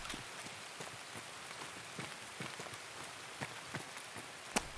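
Heavy rain falls steadily in the video game Escape From Tarkov, a dense hiss of drops with scattered louder taps and one sharp click near the end, with no talk.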